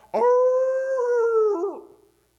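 A human voice imitating a fat beagle howling on a porch at night, a single sustained howl of about a second and a half that bends downward and trails off at the end.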